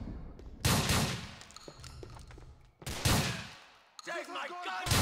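Rapid gunfire from the video game GTA IV, with heavy bursts and shots cracking out in several loud volleys separated by brief pauses.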